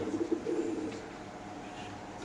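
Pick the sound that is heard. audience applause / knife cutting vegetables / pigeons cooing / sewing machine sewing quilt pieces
pigeons cooing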